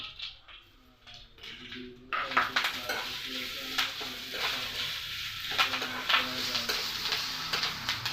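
Curry leaves hit hot oil in a pan for a mixed vegetable stir-fry, starting a sudden loud sizzle that keeps crackling steadily alongside metallic stirring clinks and scrapes.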